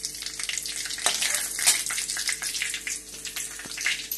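Cumin seeds sizzling in hot oil in a pan for palak paneer, a dense, bright continuous hiss and crackle with a few sharp pops, heard close and steady.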